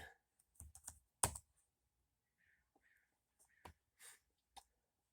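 Computer mouse or keyboard clicks come in sparse, quick, close bursts amid near silence, with a soft breath between them.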